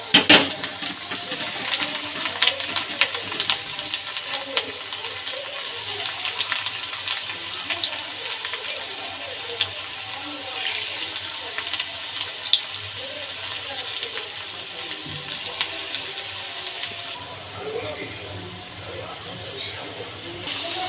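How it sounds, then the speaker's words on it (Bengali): Continuous close sizzling of cauliflower pakoras frying in hot oil over a low flame, with frequent sharp pops and crackles throughout. "তেলটা গরম হয়ে গেছে এবার একটা একটা করে ফুলকপি তেলের মধ্যে ছেড়ে দেবো"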